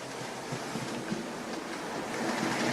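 An OO gauge Hornby Ginty model locomotive hauls a Bachmann Ransomes & Rapier breakdown crane slowly around tight third radius curves, giving a steady, close whirring rumble with faint wheel clicks and no talk.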